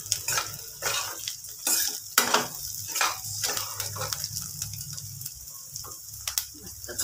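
Cashews for a dhaba-style cashew curry are stirred and fried in a pan, giving a soft, uneven sizzle with spoon scrapes and light clinks of metal against the pan.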